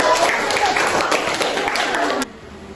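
A short burst of group applause in a classroom, dense clapping from students that stops abruptly, with some voices mixed in.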